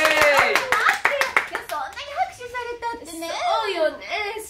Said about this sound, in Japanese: もうみんな拍手拍手、ほらほら拍手